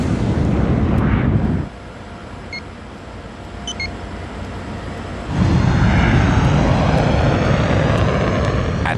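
American Airlines Flight 965, an airliner at nearly 520 km/h and descending, gives a steady engine roar that drops to a quieter rumble and then swells back to a loud, broad rush.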